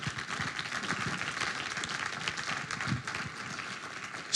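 A church congregation applauds and cheers at a French-language worship service, a dense sustained wash of clapping with scattered voices throughout, ending on a brief louder burst.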